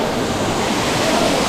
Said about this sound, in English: Look there under the waterfall,